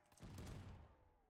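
Gunfire in Call of Duty Zombies on a challenge map, a short loud burst of shots and blasts at close range that fades out over about a second, with no talk.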